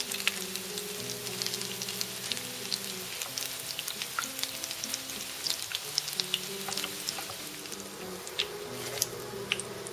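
Potato içli köfte frying in hot oil, a dense, steady crackling sizzle with scattered sharp pops running throughout, close and fairly loud, with no talk.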